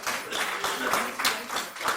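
Audience clapping for the session chairpersons at a medical education symposium, a short burst of dense applause from a seated group, fairly close, with no talking.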